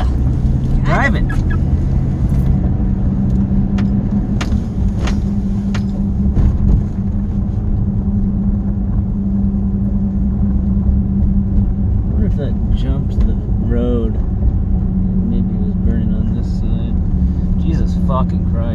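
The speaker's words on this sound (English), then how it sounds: "Back on South 29. Driving." A car drives along South 29 highway, producing a steady road rumble and tire noise throughout, with occasional voices talking over it.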